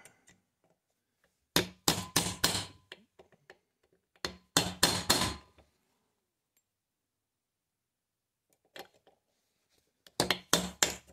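Small punch struck with a hammer to drive out a PTO bearing on a Cub Cadet 1882 garden tractor: two quick bursts of sharp metallic taps near the start and middle, a brief pause, then another cluster of close, loud strikes.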